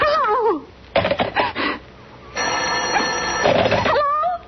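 An old telephone bell rings in bursts on an old-time radio drama, loud and close, broken by brief clattering and a voice speaking around the rings.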